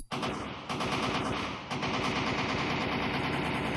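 M4 and MK rifles fire at a VRChat shooting range in loud, sustained automatic bursts with a rapid, even rhythm and two brief dips, and no one talks.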